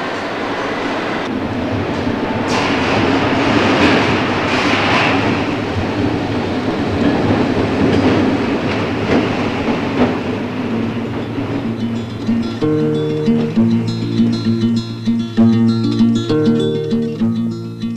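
An East German S-Bahn commuter train from 1979 rolls along with a loud continuous rumble and rattle, then a tonal whine and rhythmic clatter emerge as it changes speed.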